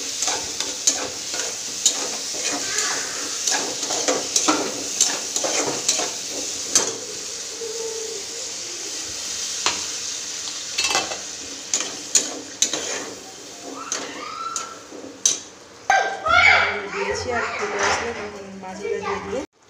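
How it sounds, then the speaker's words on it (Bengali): Rohu fish masala stir-fries in a pan with a steady, loud sizzle and crackle, broken by scraping stirs throughout and a busier burst of frying toward the end, with faint voices in the background. "মশলা দিয়ে ভাজা ভাজা করে নিলাম"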